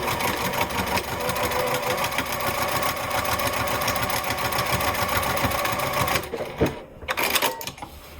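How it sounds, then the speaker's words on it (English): A sewing machine stitches across a wallet, a rapid, even mechanical chatter running steadily for about six seconds before stopping, with a few fabric-handling sounds after. "And so now I want to go ahead and stitch across there."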